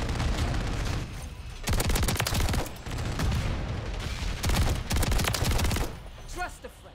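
Rapid bursts of automatic gunfire in the Call of Duty: Modern Warfare 3 video game, from a Haymaker shotgun build, loud and dense with repeated volleys and brief gaps between them, with faint voice chat mixed in.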